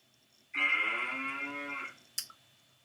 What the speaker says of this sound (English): What do you hear? I hear a cow.